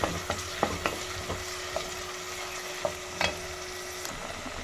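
Onions fry in a pan under a quiet, even sizzle, broken by occasional spatula taps and scrapes spaced unevenly. A faint steady tone runs through most of it, and no one talks.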